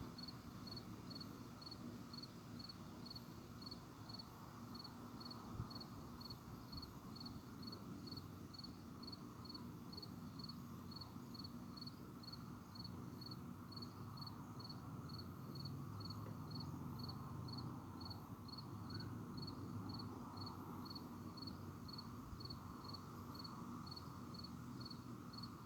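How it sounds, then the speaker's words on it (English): A cricket chirps outside on a cool, breezy night under a full moon, its faint, evenly spaced chirps repeating steadily over a soft background hiss of wind, with no voices. "I can definitely hear the sound of a cricket outside too"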